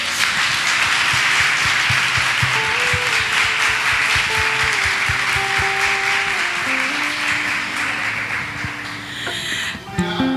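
A church congregation applauding at an anniversary and worker consecration service, a steady dense wash of clapping over organ-like sustained keyboard tones, loud and continuous for about ten seconds before thinning out at the end.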